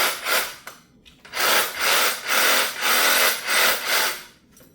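A cordless DEWALT 20V MAX reciprocating saw cutting through material, heard close up as six or seven loud, rhythmic bursts of rasping blade strokes separated by short pauses, with no voices.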